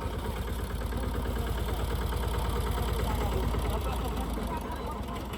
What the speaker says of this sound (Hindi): आब ट्रैक्टर छोटकी टा के छै, बढ़िया ट्रैक्टर छै